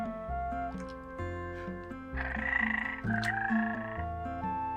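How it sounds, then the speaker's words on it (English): Frogs playing instruments in the Minecraft Ribbits mod, a layered tune of plucked and blown notes moving in steady rhythm, with a brighter reedy melody rising in the middle. "One thing that blew me away is the frogs playing instruments in this little group."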